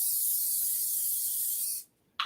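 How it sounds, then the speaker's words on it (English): Cooking spray hisses steadily into a 9x9 baking pan, a close, continuous burst lasting almost two seconds. After a short pause a second spray begins. "Then you're going to spray it with cooking spray."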